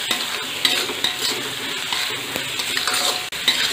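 Vegetables for veg fried rice are stirred with salt in a hot pan, giving a close, continuous sizzle with repeated scraping and clinking of a spatula against the pan in an irregular rhythm.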